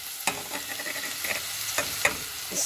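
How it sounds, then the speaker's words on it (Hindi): Chicken pieces frying in a pan with garlic and onion, a steady sizzle broken by several sharp stirring scrapes and clatters, close and fairly loud with no talk. "तो अब हम इसमें ऐड करते हैं चिकन को।"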